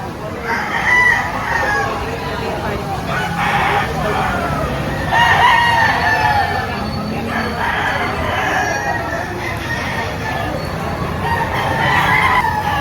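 Chickens clucking and roosters crowing repeatedly, some near and some farther off, while people talk over the flock.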